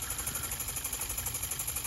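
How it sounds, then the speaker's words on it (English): A small reciprocating piston steam engine drives a phone charger, giving a steady, fast rhythmic chugging and mechanical vibration with a low hum, continuous and fairly quiet throughout. "it's a reciprocating piston steam engine"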